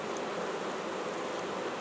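Honeybees buzz in an open hive during swarm control, a dense continuous hum of many bees up close, steady and unbroken with light rustling and no talk.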